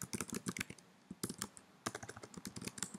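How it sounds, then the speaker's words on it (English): Rapid clatter of computer keyboard keys in uneven bursts, with a short pause midway before the typing resumes, fairly close and alone without talk. "God, I can't type."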